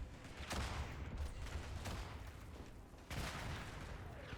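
An explosion from a grenade in the World War I video game Tannenberg booms amid ongoing distant gunfire, with a sharp blast early on and another heavy burst later over a steady rumbling battlefield din.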